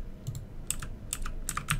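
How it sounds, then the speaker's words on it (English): Fast typing on a clicky computer keyboard, a quick irregular run of sharp key clicks in small clusters, close and fairly quiet, with no talking. "I only hear your typing furiously on the keyboard."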